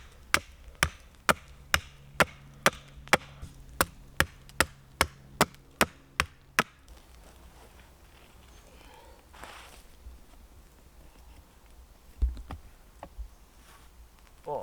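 Wooden Y-shaped sticks are being chopped to a point outdoors at a wild bushcraft camp. About fifteen sharp, close blade strikes land at a steady rhythm. Quiet rustling and a few softer knocks follow.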